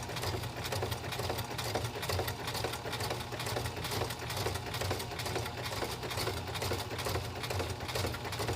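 Sewing machine stitching a princess seam top, a steady rapid mechanical whir with a fast even needle rhythm, running continuously and fairly close, without talking.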